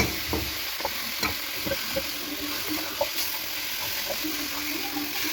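Onion sizzles and fries in a pot while being stirred for vegetable soup, a steady hiss with scattered scraping and knocking stir sounds throughout, close and moderately loud.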